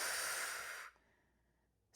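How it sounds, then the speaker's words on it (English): Loud, close breathing during a reformer Pilates lower-body exercise, a long airy exhale that fades out near the one-second mark, then a quiet gap before a sharp new breath begins at the very end. "Keep breathing here."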